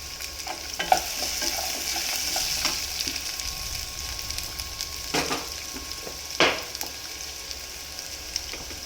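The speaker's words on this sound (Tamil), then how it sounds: "போட்டு வதக்கம் வைக்கலாம். கேரட்டையும் போட்டுருவோம்." Vegetables and carrots sautéing in a pan for a vegetarian gulai lemak give a steady close sizzle, broken by a few scraping stirs and clanks of a spoon against the pan.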